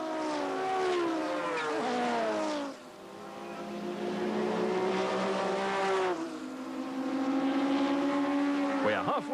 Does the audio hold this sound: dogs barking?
no